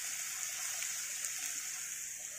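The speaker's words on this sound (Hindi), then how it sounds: "इसके अंदर डाल दूंगी मैं 4 टीस्पून पानी" Water is poured into a pan of spiced raw banana curry, giving a steady, soft hiss of liquid that continues evenly for a couple of seconds with no voices over it.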